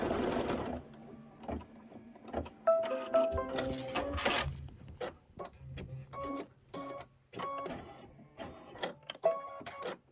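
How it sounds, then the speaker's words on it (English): An embroidery sewing machine sewing a quilting stitch, a close rapid mechanical chatter in stop-start runs with whirring pauses between bursts. "And then go ahead and do the quilting stitch."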